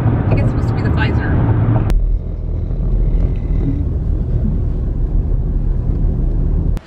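From inside a car driving down the road, a steady low rumble of engine and tyres runs continuously, with a brief sharper knock partway through and a faint clunk at the very end.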